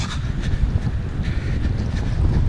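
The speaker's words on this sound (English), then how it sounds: "it is windy" Steady wind buffeting a microphone while running at Coney Island in winter, a low rumbling roar with gusty swells throughout, loud and continuous with no voices.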